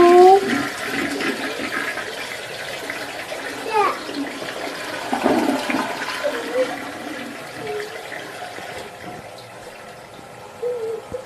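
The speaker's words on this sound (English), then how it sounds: "A little boy decided to say farewell to his pet fish, Top, with the classic bathroom funeral." A household toilet flushes with a rushing, gurgling swirl of water that fades over several seconds, while a child's crying and other voices sound over it.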